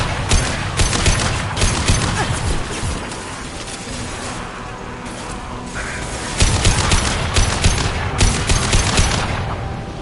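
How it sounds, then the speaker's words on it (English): Mass Effect 2 video game combat with a concussive shot blast and gunfire, loud volleys of rapid shots that ease off in the middle, then return in dense bursts. "Concussive shot ready. Gonna blow!"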